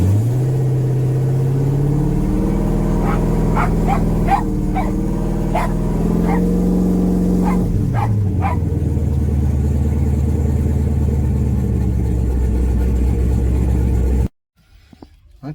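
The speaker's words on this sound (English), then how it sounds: "When we rev it up." A 1996 Camaro with a swapped 5.3 V8 and GT45 turbo, having fueling issues under boost, holds a steady rough idle with a rev blip partway through, then cuts off abruptly near the end.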